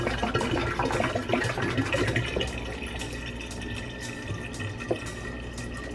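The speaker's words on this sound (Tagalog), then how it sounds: "pupunuin ko lang to ng tubig" A cooking pot being filled with water from a kitchen tap for pasta, a steady rushing stream with small splashes throughout, fairly close and uninterrupted.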